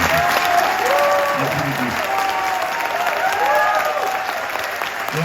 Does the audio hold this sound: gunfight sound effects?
no